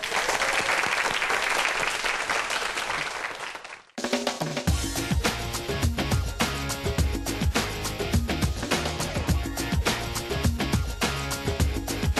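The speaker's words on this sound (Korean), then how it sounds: "큰 박수로 환영해 주세요" A studio audience at a Korean television youth-startup programme bursts into applause to welcome a guest, a loud, dense wash of clapping for about four seconds that cuts off abruptly into loud rhythmic music.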